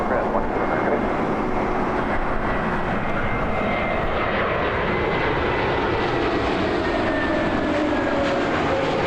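An Air Transat Airbus A321neo airliner at Toronto Pearson Airport gives a loud, steady jet engine roar that fills the whole stretch, with no talking over it.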